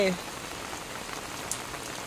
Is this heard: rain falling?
yes